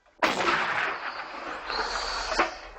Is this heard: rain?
no